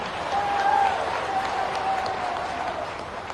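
A crowd at a political rally for Chief Minister Shivraj Singh Chouhan in Hatpipliya, Dewas district, claps steadily and loudly for several seconds, a dense continuous wash of applause with a faint tone running underneath.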